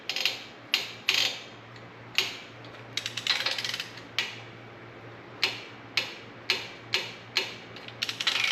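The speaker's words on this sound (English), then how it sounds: "Now that this has went through a heat cycle, I'm gonna retorque these." Bolts on a 1959 D-17 tractor are retorqued with a ratchet: sharp, separate clicks and short ratcheting bursts at irregular intervals, close and fairly quiet over a low steady hum.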